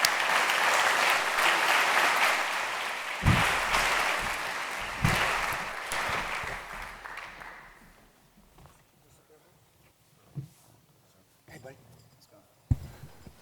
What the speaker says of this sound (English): so give them a round of applause to the stage